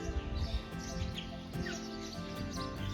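A large flock of birds chirping loudly in trees at a Buddhist temple in Thailand, a dense, continuous chorus of overlapping tweets and calls that is close and steady with no talk.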